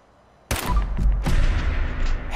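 Gunfire in Fallout 4 erupts suddenly after a quiet moment, a loud continuous burst of rapid shots and booming impacts that holds for about two seconds.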